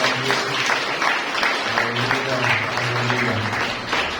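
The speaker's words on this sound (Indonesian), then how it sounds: "Beri tepuk tangan" A church congregation applauds through a worship service, a steady wash of many hands clapping with voices and a low musical tone underneath.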